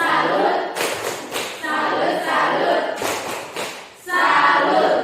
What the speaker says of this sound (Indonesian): Kita tepuk salut dulu untuk kelompok 1